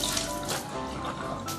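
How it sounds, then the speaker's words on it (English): Tap water runs steadily into a kitchen sink while raw prawns are rinsed for salted egg fried prawns, a close, continuous splashing hiss with a few brighter spatters and no voices. "This one also washed under running water."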